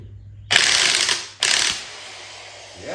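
A hand ratchet loosens wheel bolts on a 1945 Farmall A tractor, two loud, close bursts of rapid clicking in quick succession followed by quiet.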